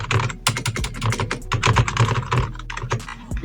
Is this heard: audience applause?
no